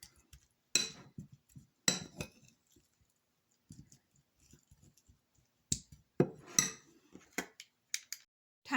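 Spinach and cheese filling being stirred in a bowl, with sparse clinks and scrapes of a utensil against the bowl, quiet and close, separated by stretches of silence.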